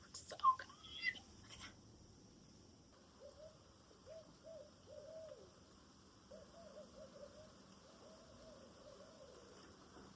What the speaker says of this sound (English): Penny, those are owls. They're back.